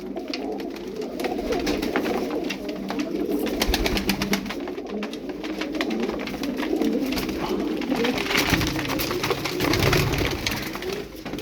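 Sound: pigeons cooing

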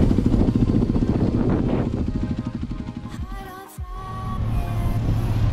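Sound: Haojue Xpress 125 motorcycle riding on training course

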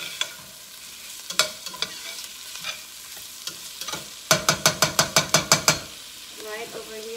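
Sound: stirring boiling pinto beans in a pot

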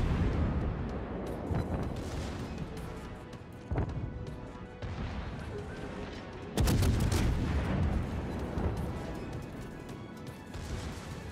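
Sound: torpedo firing in World of Warships video game

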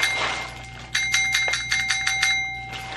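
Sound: ringing a bell

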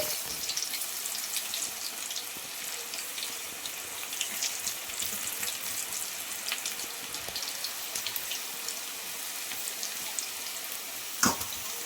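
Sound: drumstick leaf and jowar flour pakoda frying in oil

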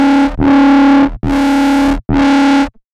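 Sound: Serum bass through Trash distortion mode

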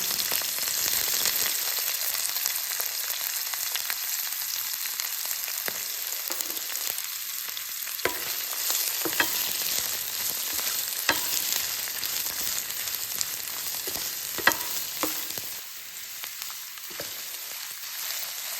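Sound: capsicum sautéing in hot oil

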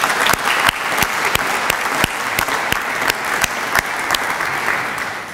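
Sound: audience round of applause

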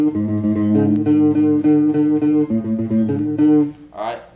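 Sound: guitar playing a fast kompa groove

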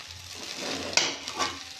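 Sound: stirring paneer into matar pulao in a pan

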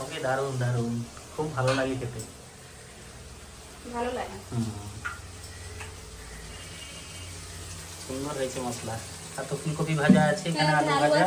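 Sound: cashew paste frying in a pan

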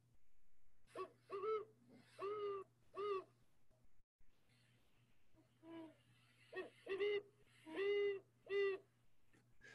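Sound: owl hooting, played recording

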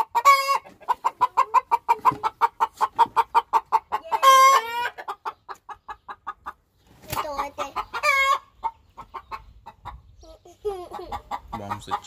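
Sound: chickens clucking

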